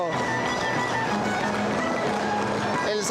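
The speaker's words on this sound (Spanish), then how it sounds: "El zapateo fuerte" Dancers stomp out a vigorous zapateo at the Colta carnival, a dense, rapid patter of feet heard amid crowd noise, with a steady tone running underneath.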